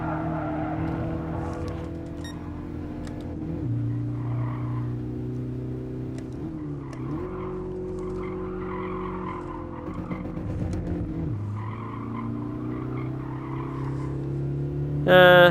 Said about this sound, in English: Do a bit of drifting.